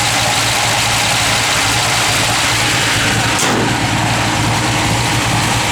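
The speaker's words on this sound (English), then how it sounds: "Good sounding small block, guys." A 1955 Chevrolet 210 with a small-block V8 idles steadily and close by, its low rumble continuous and even throughout with a brief click partway through.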